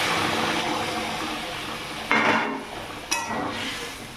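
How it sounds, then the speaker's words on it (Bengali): Hot water is poured into a pan of sautéed potatoes for a jackfruit kofta curry. A steady close sizzle and bubbling is broken by two sharp, hissing bursts as the water hits the hot pan. "তো এবার এখানে গরম জলটা দিয়ে দিচ্ছি"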